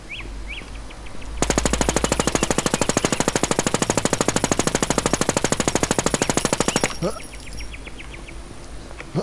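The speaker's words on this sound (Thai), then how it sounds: "เฮียยิงไม่โดนเลย" A long, rapid burst of automatic gunfire in a video game rattles out for about five seconds, loud and unbroken, with quieter game ambience before and after.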